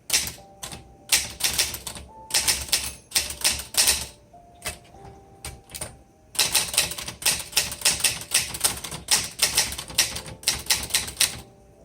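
Rapid typing on a 1960s Underwood 21 manual typewriter, dense clattering keystrokes in bursts with a brief pause midway, close and loud, no talking.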